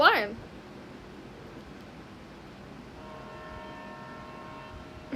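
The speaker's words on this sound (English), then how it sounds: "Train ASMR." A train heard from a train ASMR recording: a low steady rumble of rolling rail cars with a distant horn tone sounding toward the end, faint and distant.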